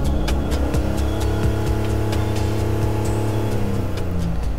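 A car engine revs up and settles repeatedly as the accelerator is pressed, a steady loud mechanical drone with rising and falling pitch, heard up close without talk.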